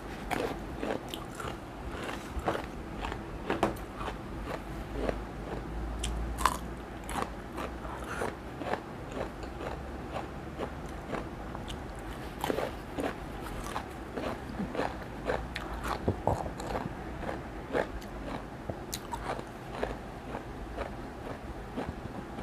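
Someone eats Thai green curry with fish balls and rice noodles, with steady close crunching and chewing bites repeating throughout, each small click and squelch sharp against a quiet room; no talking.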